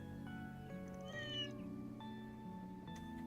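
A cat meows in the video game Trails Through Daybreak, giving a few clear, rising and falling meows over a steady game music bed, with no talking.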